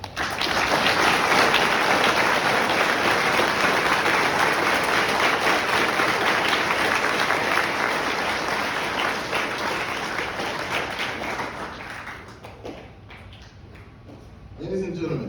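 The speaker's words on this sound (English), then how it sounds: "please give a well-deserved round of applause for today's graduate" Sustained, dense applause fills a large hall for graduates at a military Ordnance graduation ceremony, loud at first and gradually thinning out over about fifteen seconds before a brief final flurry.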